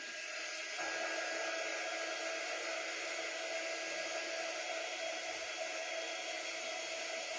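A hair dryer blows on a freshly painted craft project, a steady loud airy rush that holds unbroken from start to finish with no talking.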